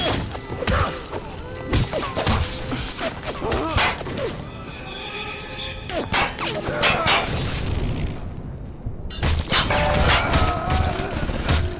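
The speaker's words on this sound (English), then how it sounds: "Machine gun, stop shooting me in the back" Rapid machine gun fire in the first-person shooter Bioshock, with bursts of shots, booms and crashes mixed with game effects and a voice, loud and dense throughout.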